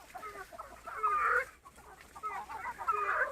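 Free-range village hens on a small farm, kept alongside goats, cluck in short, soft bursts while waiting for feed. The sound is fairly faint and comes from close by.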